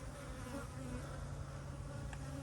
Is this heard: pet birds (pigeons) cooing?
no